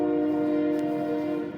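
Train horn sound effect, a single sustained chord-like blast held steady and loud for under two seconds before trailing off, alone without talk.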